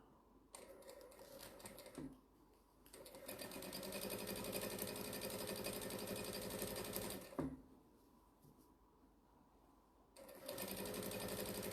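A home sewing machine stitches a jelly roll strip tote bag, running in steady bursts with two short pauses between runs, loud and close with no talking.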